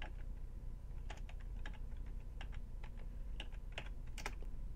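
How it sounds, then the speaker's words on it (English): Fingers type a number on a computer keyboard with a quiet, irregular patter of light keystroke clicks, close and faint, with no voices. "Type the number in."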